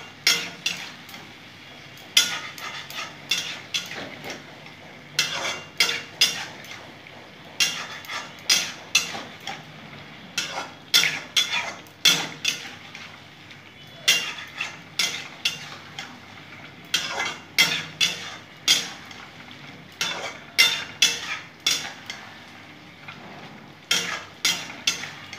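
Spices being stirred and fried in a pan during cooking, with repeated close scraping clinks of a spoon against metal in irregular bursts over a soft background sizzle, and no talk.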